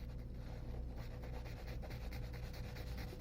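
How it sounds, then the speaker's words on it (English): Shading in the eye socket of a portrait: a faint, steady rubbing stroke across the surface, continuous and close for about three seconds, with no talking. "You just sort of shade in where the socket goes."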